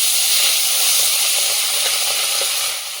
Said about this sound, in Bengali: ভোলা মাছগুলো সব একবারে চাপিয়ে দেবে? না, তেল খুব হিট হয়ে গেছে কিন্তু, সাবধানে।